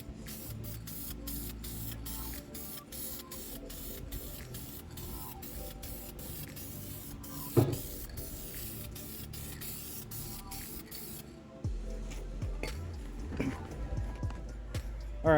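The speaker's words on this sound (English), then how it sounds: "and we'll lay some paint. Getting it down into the corners." Continuous hissing spray of fabric paint being laid onto a car's interior fabric, a Honda CB7 cabin, turning blue upholstery charcoal gray; steady close spraying with brief pauses, then a shift to quieter handling noise near the end.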